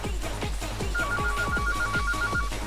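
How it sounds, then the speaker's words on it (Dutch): A telephone rings in steady, repeated electronic trills over a loud rhythmic thumping backdrop, with no talk during the ring. "Telefoon"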